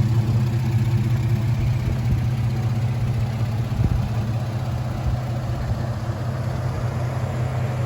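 A 1947 Ford F1 pickup truck with a 4.3 engine idling, a steady low rumble with even mechanical clatter, loud and close throughout.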